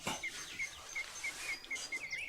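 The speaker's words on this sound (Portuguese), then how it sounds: "Já tá uma passarinhada cantando." Birds sing outdoors at dawn or dusk: a repeated high chirping call comes every half second or so in a steady rhythm, moderately close, with fainter twittering and insect-like buzzing behind it and no talking.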